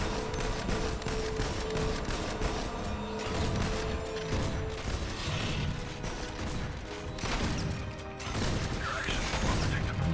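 Rapid mechanical gunfire bursts in the mech combat video game Front Mission Evolved, loud and continuous with dense clattering shots and metallic impacts throughout.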